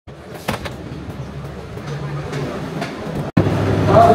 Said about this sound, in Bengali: ওই হচ্ছে ইঞ্জিন